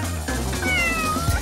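A cat meows in a drawn-out, rising and falling call, close and clear, with no talk.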